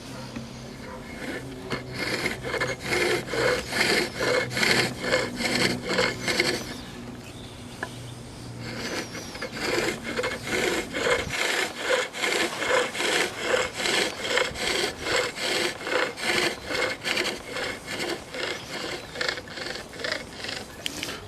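A skew chisel cuts wood on a lathe, a steady rhythmic hiss and scrape of the blade shaving the spinning workpiece, loud and close, with a brief pause midway before the cutting resumes.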